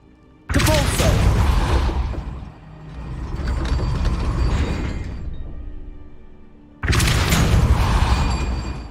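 In Hogwarts Legacy, the Depulso spell is cast in loud, roaring bursts of force: one long blast, a softer rumbling swell, then another sharp surge.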